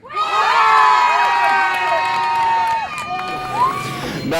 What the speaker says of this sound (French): On peut applaudir et féliciter Alice.